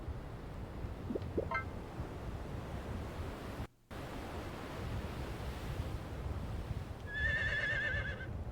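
A horse in the video game Harvest Moon gives a short bright whinny near the end, over a constant hissy, surf-like ambient bed with faint higher calls earlier.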